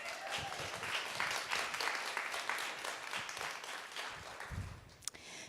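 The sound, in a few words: audience applause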